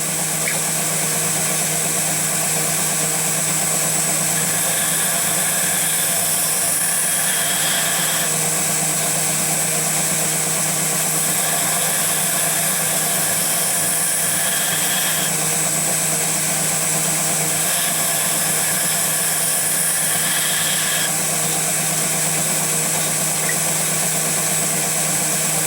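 A bench grinder runs steadily for hollow grinding, giving a continuous motor whine with a faint mechanical rumble, holding an even level throughout with no voices.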